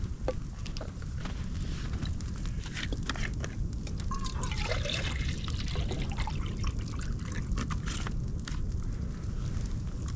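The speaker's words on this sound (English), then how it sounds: "I'm going to get my jet boil going." A Jetboil camping stove heats water outdoors, giving a steady broadband hiss and roar with faint bubbling and liquid trickling throughout, with no talking.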